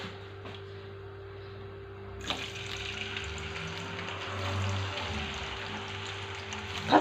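Washed, well-drained potatoes drop into hot oil in a pot, and a loud, dense sizzle starts abruptly and then crackles steadily at close range.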